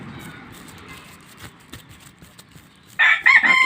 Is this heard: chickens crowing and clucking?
yes